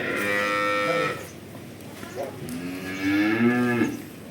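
A pregnant dairy cow moos twice nearby, a long drawn-out low call followed by a second after a short pause, loud and clear.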